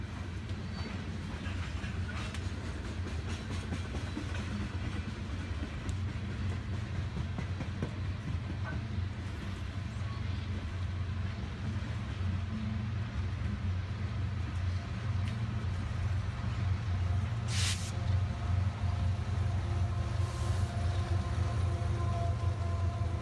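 A BNSF freight train on the Thayer line rolls past with a loud continuous low rumble and rail noise, steady throughout, with a brief high squeal near the end.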